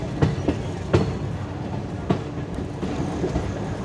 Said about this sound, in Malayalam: നമ്മൾ ജസ്റ്റ് മെയിൻ ലൈനിൽ സ്റ്റേഷനിലേക്ക് തിരിച്ച് കയറുന്നു.